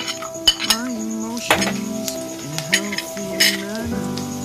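Almonds and cashews frying in ghee in a wok, with a soft steady sizzle broken by sharp metallic clinks of a utensil against the pan, close by and loud, with tonal background sound throughout.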